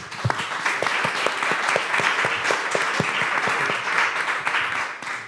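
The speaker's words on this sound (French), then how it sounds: "On peut aussi l'applaudir, bravo." Audience applause in a conference room after a testimonial at a French business presentation, a dense steady wash of clapping for about five seconds with a few sharper individual claps standing out, no voices over it.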